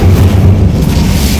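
A fire spell cast in the Hogwarts Legacy video game, heard as a loud, dense low rumbling whoosh that sustains steadily throughout without distinct attack, close and full.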